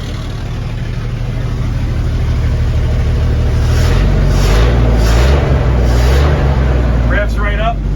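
The engine of a 1952 American LaFrance 700 series fire truck, started for the first time in 20 years, rumbles loudly and steadily, rising in revs partway through, with a brief voice near the end.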